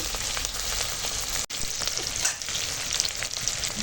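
Onions and tomato sizzle and crackle continuously in oil in a pan, a bright, dense hiss with a brief stir or clatter partway through.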